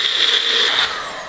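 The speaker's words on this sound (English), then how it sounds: "It's a lot easier with the blender." A blender grinds toasted rice with a loud, steady, high whirring roar that eases slightly near the end, close up with no talk.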